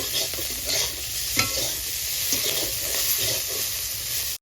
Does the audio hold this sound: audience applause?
no